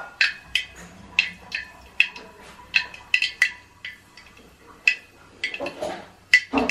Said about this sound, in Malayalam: എണ്ണ തിളച്ചിട്ടുണ്ട്. നമ്മൾ ഇച്ചിരി കടുകിടാൻ പോകണം.